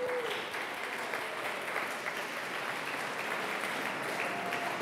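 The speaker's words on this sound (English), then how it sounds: "Big round of applause for these folks." Sustained applause from a city council and chamber audience at a Tualatin State of the City address, a dense, steady wash of clapping lasting several seconds.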